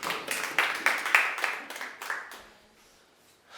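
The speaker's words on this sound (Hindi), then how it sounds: "फिर से तालियां बजाएं इनके लिए।" An audience claps for a participant on a studio stage, a short burst of dense applause that swells and then fades out within a few seconds.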